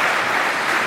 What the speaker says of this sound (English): Another round of applause, please, for Chris, Melissa